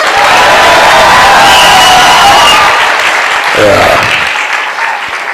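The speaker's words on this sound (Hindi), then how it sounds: "एक बार जोर से चिल्ला के ताली हो जाए।" Loud, dense applause with cheering from a large conference crowd in Punjab, sustained for several seconds and tapering near the end, with some voices mixed in.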